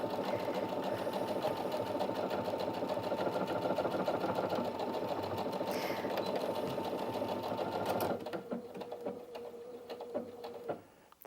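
A Brother Inventio NV1350 sewing machine stitches a decorative pattern in a steady, fast mechanical whir with rapid needle ticking, running continuously before stopping, then quieter clicks as it settles.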